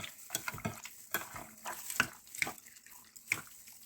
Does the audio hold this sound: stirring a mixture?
yes